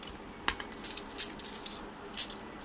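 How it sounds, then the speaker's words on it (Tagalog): Old Philippine 2 piso coins are handled close up, giving a series of light, bright metallic clinks and taps at irregular intervals. "ito na mga pinaka-rare old coin"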